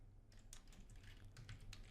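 Quick, irregular clicks of fingers typing on a computer keyboard, close and quiet, in a short burst of keystrokes with no talk.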